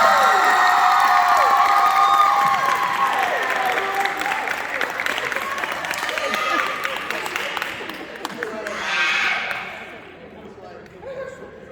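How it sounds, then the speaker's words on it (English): An audience at a high school band banquet awards ceremony claps and cheers loudly at first, then the applause thins and fades over several seconds with scattered shouts. "Let's give a round of applause."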